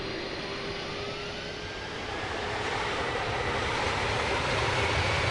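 In Microsoft Flight Simulator, an Airbus airliner's jet engines spool up for takeoff, a broad steady roar with a rising whine that grows slowly louder, with no talking.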